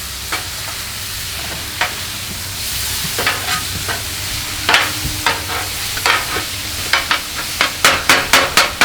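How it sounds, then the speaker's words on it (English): Metal spatulas chop and scrape beef on a Blackstone griddle over a steady sizzle, the clacks sparse at first, then quickening into a rapid run of sharp, close strikes. "All right, let's chop this up and make it look a little more palatable here."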